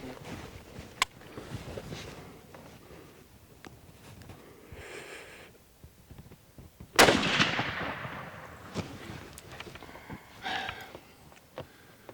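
Hunting rifle fitted with a Zeiss scope and loaded with Barnes bullets, fired on a leopard hunt in Zambia: one sharp, loud crack with a trailing rumble breaks several seconds of quiet rustling.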